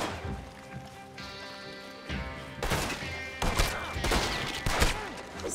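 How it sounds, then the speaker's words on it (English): Rapid gunfire in Red Dead Redemption 2 Online during a bounty hunt, repeated loud bursts of shots and impacts over a busy game soundscape, without talk. "Stop shooting at me."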